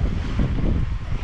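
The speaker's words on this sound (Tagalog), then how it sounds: "Ay hindi pala kalmado, may alon-alon." Waves wash steadily against a boat or shore, mixed with blustery wind rumbling across the microphone, with no voices.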